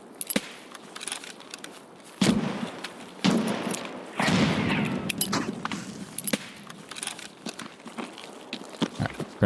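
Grenade explosions in the shooter game Escape from Tarkov, a few heavy bursts roughly a second or two apart, the last one longest, over scattered clicks and rustling gear noise, with no talk.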